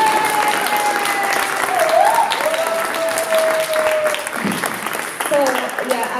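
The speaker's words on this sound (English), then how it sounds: "Clap, people, please." Audience clapping at a panel event, a steady burst of hand claps from a crowd lasting several seconds, with a sustained tone and a voice or two heard through it near the end.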